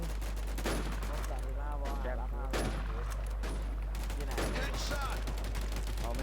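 Gunfire in the survival shooter WarZ rings out as several sharp single shots and short bursts, with someone speaking excitedly over and between them.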